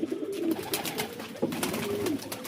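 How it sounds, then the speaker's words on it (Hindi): A stray pigeon coos at a rooftop loft, a few throaty, rolling calls close by with short gaps between them, over faint background hiss. "देखिए कबूतर ये आया किसी का भटका हुआ"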